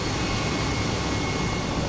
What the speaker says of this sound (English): Noisy old thing, this helicopter